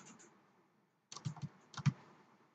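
Quick bursts of computer keyboard typing while entering input addresses in RSLogix 500 PLC programming software, two short clusters of close keystrokes after a near-silent pause.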